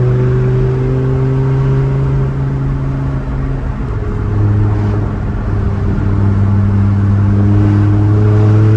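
A loud, steady Lamborghini Huracan exhaust drone holds close by, swelling slightly as the engine revs and settles.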